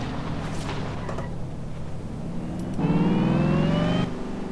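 A Rolls Royce in Forza Horizon 3 cruising and turning around, a steady smooth engine hum that swells into a louder, rising whir for about a second before easing back.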